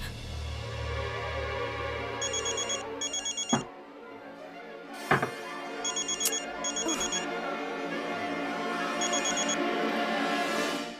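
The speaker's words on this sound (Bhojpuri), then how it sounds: "ओह माय गॉड, प्रज्ञा के फोन।" A telephone rings in repeated short bursts of electronic trills, fairly quiet, with a few sharp thumps and some background noise between rings.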